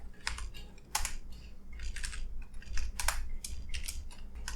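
Code is typed quickly on a computer keyboard, with close, clattering keystrokes falling in uneven bursts and short pauses.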